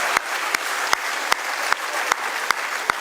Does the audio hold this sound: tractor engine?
no